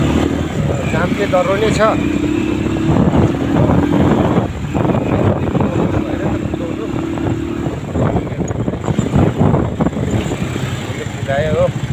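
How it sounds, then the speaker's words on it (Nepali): A motorbike ride outdoors, with a steady engine drone mixed with buffeting wind noise on the microphone and a passing horn or two, while a rider talks over it for most of the stretch. "मैले बाइक कुदाइरहेको छु।"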